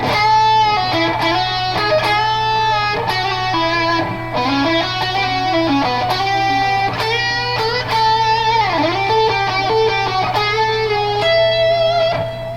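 Electric guitar playing a full lead section, with a continuous flowing melody of bends, slides and fast note runs over a steady low hum, loud and close with no talking.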